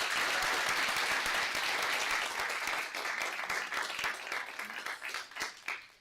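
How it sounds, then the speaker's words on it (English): Audience applause at a law school moot court competition, a dense, steady round of clapping from a room of people that thins into scattered claps and fades. "One more round of applause for the advocate"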